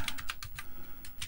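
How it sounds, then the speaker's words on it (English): Keys clack in quick irregular bursts on a stock parallel ASCII keyboard for an early Apple II Rev 0, close and fairly quiet, with no talk. "It's just a stock parallel ASCII keyboard."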